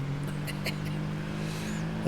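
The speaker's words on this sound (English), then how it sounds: "This Jeep needs a serious tune-up, man." A steady low Jeep engine hum in Farming Simulator 22 drones throughout, idling roughly with slight fluctuations, with faint clicks and a brief louder rev near the end.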